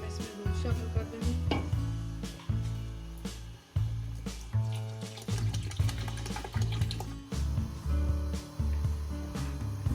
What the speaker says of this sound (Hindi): तो हम इसमें दूध शामिल कर देंगे।